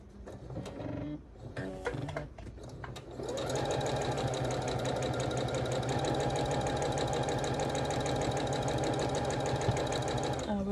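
A sewing machine runs in a steady, fast continuous stitch while finishing a barn star sampler quilt, after a few short starting bursts; loud and close, no talk over it.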